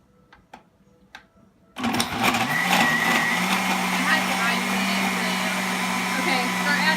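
A blender whirs into a steady, loud drone as it mixes a spinach and fruit smoothie, starting abruptly after a few quiet knocks and running continuously to the end.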